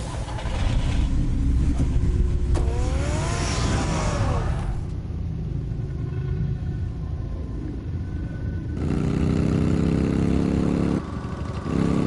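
Batman's car engine rumbles and revs in a Batman game, with a deep, steady growl, rising whines as it accelerates, and a shift to a lower idle before surging again near the end.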